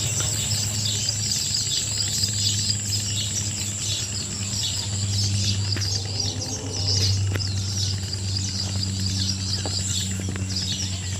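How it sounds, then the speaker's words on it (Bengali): Many baya weaver birds twitter and chirp together in a constant busy chorus around their nests in a palm tree, moderately distant, with a steady low drone underneath and occasional faint knocks. "আপনাদের কাছে কেমন লাগছে পাখির ডাক শুনতে"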